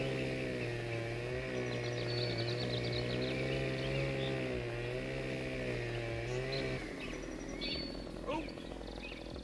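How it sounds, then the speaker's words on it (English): Timber-cutting machinery in Farming Simulator 17 drones with a steady harmonic engine hum that wavers in pitch, then shifts to cracking and crunching as trees come down, with bird chirps above and someone talking. "Right, let's start cutting some trees down."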